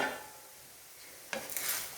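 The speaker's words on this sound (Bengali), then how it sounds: "এটাকে আমি আবার নাড়াচাড়া করছি খুন্তি দিয়ে।" A spatula stirs sago pilaf in a wok, giving faint scraping and light clinks that pick up into a brief cluster of louder scrapes near the end, with no voices.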